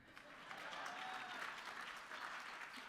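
Faint, distant crowd applause at an awards ceremony, a soft steady patter of clapping that swells slightly and holds for a few seconds.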